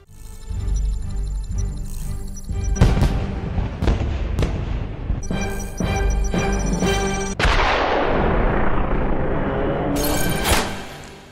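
Fireworks burst repeatedly in a loud, dense barrage in an animated Batman film, sharp bangs and crackles layered over a continuous rumbling roar, with a few especially big booms standing out.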